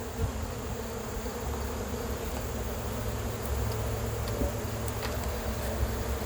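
Honeybees buzzing around a hive, a dense, steady drone of many wings close by that holds throughout with no speech.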